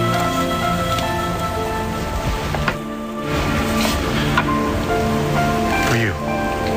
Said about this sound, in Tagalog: Pauwi na sana ako, kaya lang inabutan ako ng ulan, kaya hindi ako makalabas.